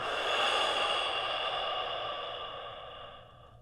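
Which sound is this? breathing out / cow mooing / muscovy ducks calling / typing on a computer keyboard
breathing out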